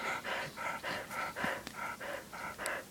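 A dog pants rapidly and steadily at close range, about ten quick breathy pulses in a row with no talking.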